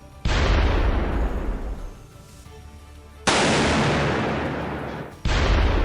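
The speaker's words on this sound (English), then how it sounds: "The tank gets close and fires its first shot, followed by another shot, then several more." A tank cannon fires three heavy shots, each a loud blast with a long rumbling decay, the second arriving about three seconds after the first and the third two seconds later, with no talk over them.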